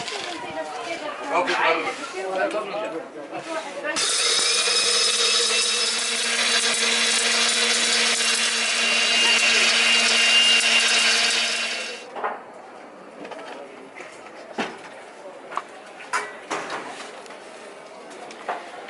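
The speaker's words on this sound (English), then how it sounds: "we grind it for a couple minutes until it becomes more of a powder" An electric spice grinder whirring loudly for about eight seconds as it mills a Moroccan Ras el Hanout blend into powder, a steady high buzzing whine, with people talking before and after.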